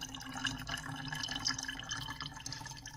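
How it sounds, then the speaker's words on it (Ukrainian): Scabotox liquid poured into refined or unrefined sunflower oil, giving a steady close trickle with small drips and splashes for about three seconds, with no talk. "И вливаю до олії."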